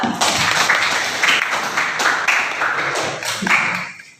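A classroom group applauds a student, a few seconds of fairly close, uneven clapping in bursts that trail off at the end.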